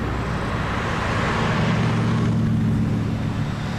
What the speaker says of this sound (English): Heading off with the burble of the V8.